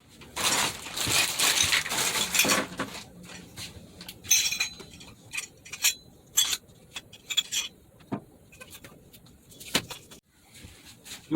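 Metal fittings and plastic drain pipe parts clink, tap and rattle in short irregular bursts during assembly of a camper van sink's overflow drain, close by with brief quiet gaps and no talk.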